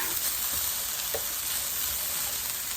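Onions, celery and carrots sizzle steadily in a pan for sofrito, a constant close frying hiss with a few faint stirring knocks and no talk.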